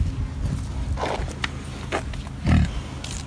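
A boar on a farm in Jamaica gives a few low grunts amid shuffling and footsteps, close and moderately loud, with a stronger grunt near the end.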